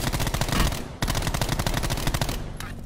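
Rapid automatic gunfire from the Call of Duty video game rattles in dense, continuous bursts. There is a brief break near the one-second mark, then the loud chatter carries on.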